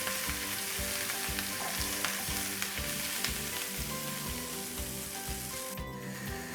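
Green chillies sizzle in hot oil for a tempering, a bright steady crackle close up with rhythmic scraping of a utensil stirring in the pan.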